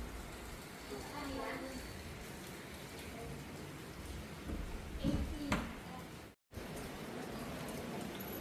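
Rain falls steadily on surfaces at a La Union, Philippines resort, a soft continuous hiss with a few brief knocks and thumps nearby, heard at moderate level.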